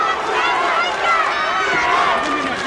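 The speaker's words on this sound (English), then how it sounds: "Sounds like a soccer crowd." An arena crowd roars and cheers throughout a kickboxing bout, a dense, steady wash of voices with a commentator talking over it.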